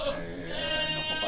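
Goats on a Philippine goat farm bleat up close in wavering, drawn-out calls, one at the start and another rising toward the end, over a low farmyard background.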